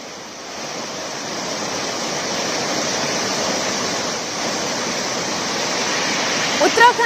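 The swollen Tamsa river pours past in a loud, unbroken rush of water, a broad steady roar that carries on throughout.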